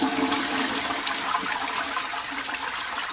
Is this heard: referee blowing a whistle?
no